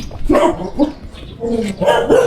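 A dog barks several times close by, sharp yaps in an uneven sequence with short gaps between them.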